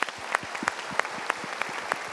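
A studio audience at a motivational talk show applauds, producing a dense, steady patter of many hands clapping at close range with no voices over it.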